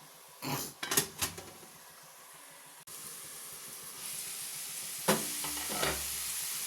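A few spoon stirs and pan knocks come first, then a steady low sizzle as food sautés and cooks under a lid, with another short clatter of the utensil near the end.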